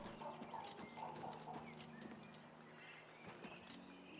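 Horse hooves clip-clop in a steady rhythm in the video game The Elder Scrolls IV: Oblivion Remastered, moderately near and alone, with faint birdsong in the background.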